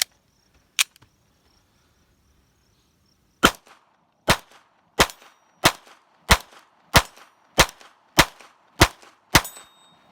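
Sharp gunshots from an XD9 pistol with a .22 LR conversion kit firing Winchester Super X 40-grain ammunition outdoors, two isolated shots, then a steady string of about ten evenly spaced loud cracks.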